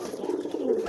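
A pigeon coos in a soft, low, rolling call, close by and fairly quiet, lasting nearly a second.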